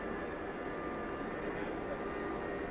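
Large aircraft engines, each making just under 39,000 pounds of thrust, run up for takeoff in a steady, dense roar that holds level throughout, heard from inside the aircraft.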